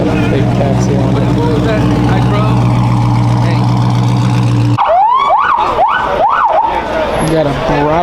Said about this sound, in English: We got a Brabus 800 with lights and sirens on it.